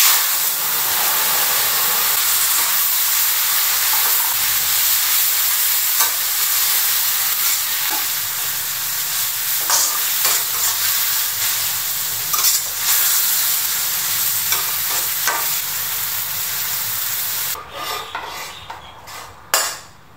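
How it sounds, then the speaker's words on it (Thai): Water spinach stir-fried in a very hot wok, a loud, steady hiss and sizzle with repeated scraping and stirring strokes throughout, ending in a few clattering pan knocks. "ตั้งกระทะให้ร้อนแล้วเทใส่ลงไปเลยค่ะ"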